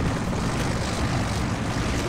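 A helicopter in a video game whirs with a steady, broad engine and rotor drone, moderately loud and continuous, with no voices over it.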